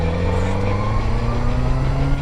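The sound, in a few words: motorcycle engine revving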